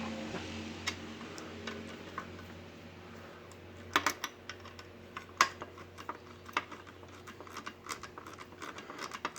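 Bolts being snugged up on the lower unit of a 1958 Evinrude 18 HP Fastwin outboard, a run of small metallic ratchet-like ticks and clicks, quiet and close over a low steady hum, no talking.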